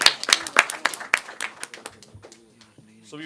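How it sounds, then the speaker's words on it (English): Audience clapping at a national heritage quiz final, a burst of sharp individual claps from a modest crowd that thins out and stops after about two seconds, followed by a faint voice. "Please clap for him."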